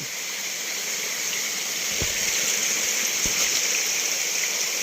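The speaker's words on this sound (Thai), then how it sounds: "มาเจอจนสุดน้ำตกจริงๆครับ" A waterfall and stream rush in a deep forest, a loud, constant, hissing flow that fills the scene, with a couple of faint knocks in the middle.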